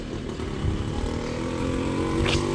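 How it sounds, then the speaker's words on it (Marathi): A loaded auto rickshaw drives past on a dark road, its small engine buzzing steadily at moderate distance and growing slightly louder toward the end. "आता रिक्षा गेली भरलेली बघा"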